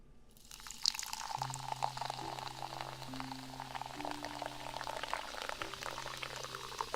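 Mango-flavored fizzy water poured and left to fizz: a close, quiet, continuous crackle of bubbles with scattered pops and drips, alone with no talk.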